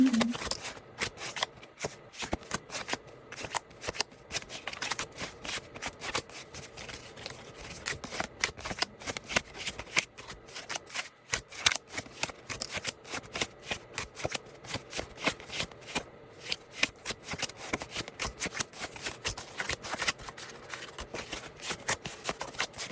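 Universal Oak tarot cards shuffled and handled continuously at close range, a steady stream of rapid papery riffles and slaps without pause, no talking.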